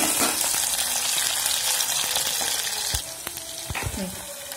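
Chopped green chillies hit hot oil in a pan for a bilimbi pickle, setting off a loud steady sizzle with stirring clicks that eases slightly partway through.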